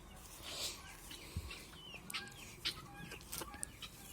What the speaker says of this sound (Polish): tu jeden kogucik, drugi, trzeci, czwarty. Kogutów dużo.